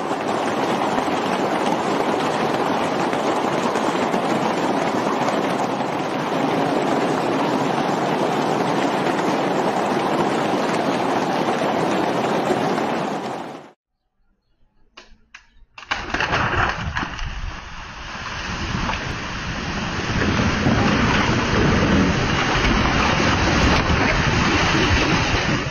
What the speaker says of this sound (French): La grêle est si lourde que l'eau semble bouillir.